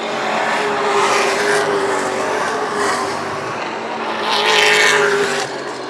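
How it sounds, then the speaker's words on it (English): Race cars roar around a motor speedway during a main event, a loud continuous engine drone that swells as cars pass, with faint tire noise and no talking. "He'll try to reel in that car as they all try to catch the 11K of Yanni Kurtzos"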